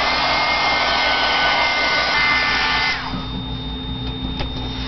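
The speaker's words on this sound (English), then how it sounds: "So I'm going to dry this real quickly." A hair dryer blows a loud, steady whir while drying an embossed Christmas craft tag, and its pitch drops partway through as the airflow setting changes.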